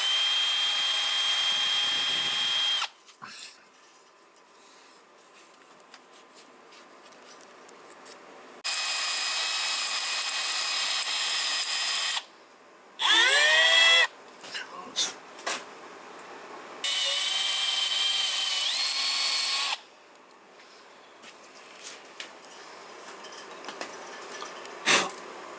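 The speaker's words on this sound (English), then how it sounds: "You know what that is? That's a dull drill bit." Several bursts of a whining power drill with a dull bit, each lasting a few seconds, separated by quieter gaps with scraping and clinking, loud and close, during VR6 cylinder head stud repair.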